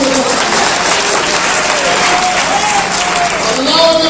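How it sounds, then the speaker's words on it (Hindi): A dense, steady crowd clapping fills a political rally in Mohammadabad during a UP municipal election campaign, loud and continuous throughout, with voices faintly audible beneath it. "हाथ लगा कर ताली बजा कर बताओ।"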